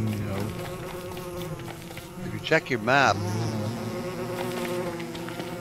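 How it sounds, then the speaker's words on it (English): Swarming bees from the video game Don't Starve Together buzz steadily in the background, with a loud burst of sharp buzzing midway. A person speaks briefly at the start. "these bees are still after me"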